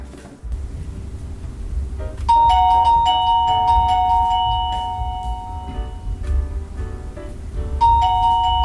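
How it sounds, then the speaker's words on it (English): A Reolink WiFi video doorbell's wireless chime rings out a clear multi-tone melody, loud and close, then a second ding starts just before the end. "I got the rear doorbell ringing and the front doorbell ringing through the app"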